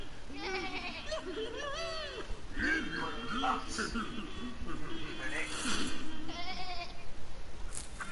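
Cartoonish goat bleats from the video game Peggle 2, several short wavering cries spread across the stretch, mixed with game sound effects and faint background chatter.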